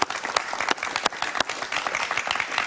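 Studio audience applause on a talk show, sharp close individual claps standing out over a busy crowd of clapping hands, steady for the whole stretch.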